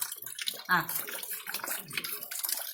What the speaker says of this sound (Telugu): చూడండి కడుక్కొని స్నానం చేస్తున్నాడు మా వాడు